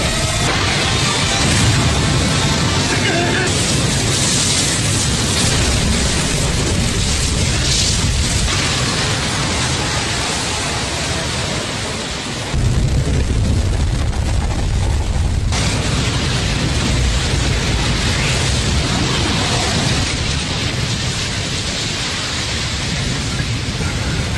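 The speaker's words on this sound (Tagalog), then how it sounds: "Pasabugin na natin siya bago pa siya makabawi ng lakas" A roaring anime battle explosion in a Naruto versus Madara fight, a loud sustained rumbling blast with dense noise that holds for most of the time, briefly dropping before surging again.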